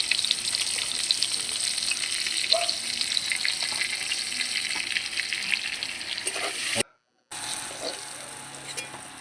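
Brinjal pieces sizzle steadily in hot oil in a kadai, a dense continuous fry close by, with a brief cut near the end before the sizzling resumes.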